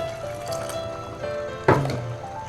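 Water splashes and fills into a pan of sautéed mung beans with chayote, a brief liquid pour with a sharp splash onset midway over a steady background hum.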